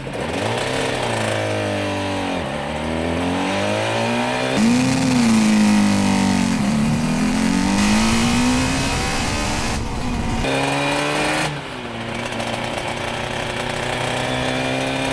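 A Suzuki RG500 or RG400 two-stroke motorcycle pulling away, its engine rising in pitch through several gear changes with brief drops between, buzzy, raspy and close, loud throughout with no voices.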